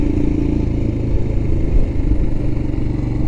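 A Royal Enfield Himalayan motorcycle rides along a small-town main street, its single-cylinder engine a close, steady low thrum with a slight rough clatter and a small swell partway through.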